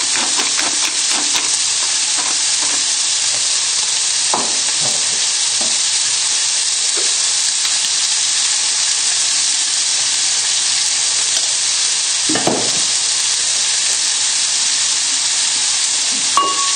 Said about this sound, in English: just give everything a little stir, and hopefully you'll start seeing the tomatoes breaking down slightly